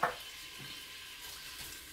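Onions frying in cooking oil inside a pressure cooker give a faint, even sizzle after a short knock at the start.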